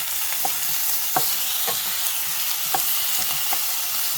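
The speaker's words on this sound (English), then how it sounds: "we're gonna add all of our tomatoes. So let's just add this real quick, and let this cook." Chopped tomatoes cook with onions in a pan for palak paneer, giving a steady, close frying hiss with a few soft stirring scrapes spaced through it.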